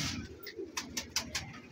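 A pan-tail pigeon for sale at a Rawalpindi pigeon market coos in a short series of soft, rhythmic pulses, close and clear against quiet surroundings, with no talking over it.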